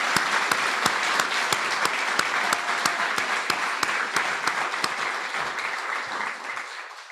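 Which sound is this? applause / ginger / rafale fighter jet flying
applause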